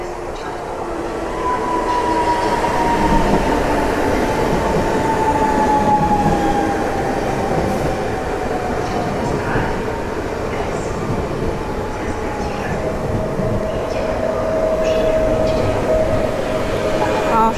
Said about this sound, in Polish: O, właśnie Dart wjeżdża.